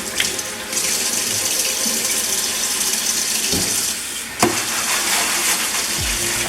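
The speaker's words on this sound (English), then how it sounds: "you have to wash the boards really good with soap and water" Hot tap water runs steadily into a kitchen sink while cutting boards are washed with soap, a close continuous splashing stream with a couple of brief clunks of boards against the basin.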